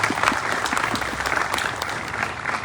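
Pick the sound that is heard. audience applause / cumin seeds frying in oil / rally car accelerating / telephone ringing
audience applause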